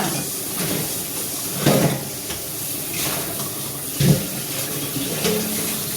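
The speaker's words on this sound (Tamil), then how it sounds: "அங்கேருந்து கொண்டு வந்த பாத்திரத்தை கழுவுறேன்" Water runs steadily from a tap with a constant hiss, while dishes clink and bump a couple of times under the flow.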